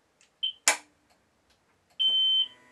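A Zontes ZT350-T motorcycle gives short electronic beeps as it switches on, a brief chirp, then a louder sustained tone, close and clear in a quiet setting.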